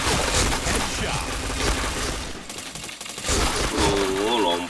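Gunfire in a video game, bursts of rapid shots and thuds in a dense, busy mix, with a brief lull midway before firing resumes, voices faintly under it.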